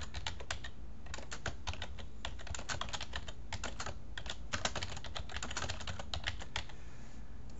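Computer keyboard being typed on in irregular bursts of quick, close clicks with short pauses, steady and fairly quiet with no voices.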